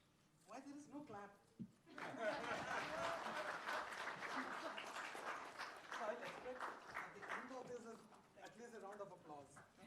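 An audience claps at a business and climate stewardship event, a burst of applause that rises in the middle and carries on beneath talk and chatter from people nearby.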